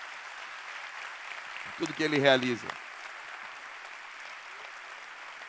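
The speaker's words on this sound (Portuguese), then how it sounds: "vamos aplaudir com as mãos ao nosso Deus" A church congregation claps in praise to God, a steady wash of applause running beneath a preacher's voice as he speaks briefly over it.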